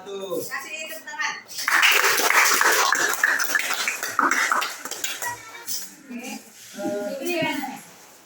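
A classroom full of students claps after a group finishes its presentation: a burst of many hands that rises quickly, holds for several seconds, then thins out into scattered claps as voices come back in.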